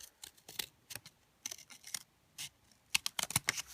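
Scissors snipping through a cardboard toilet paper roll to trim a box lid, a quick run of short, crisp cuts with brief pauses, close and fairly quiet.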